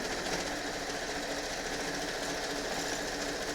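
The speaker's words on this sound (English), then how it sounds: "there's something about using a sewing machine that's just very relaxing." A sewing machine runs steadily and close, its dense rapid stitching clatter holding an even, unbroken rhythm throughout while quilt kits and dice bags are sewn.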